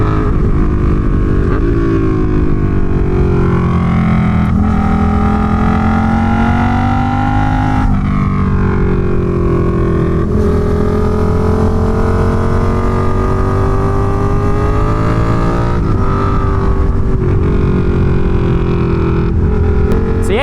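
Suzuki SV650 motorcycle fitted with a cheap aftermarket exhaust, ridden at a brisk pace: a loud, continuous engine drone rising and falling through gear changes and throttle shifts, with steady wind rush throughout.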